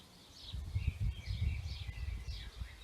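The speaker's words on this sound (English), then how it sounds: "You can hear the birds singing" Birds chirp and sing in a garden near a bird feeder, faint and distant, with short repeated high calls every half second or so over a low rumble of background noise.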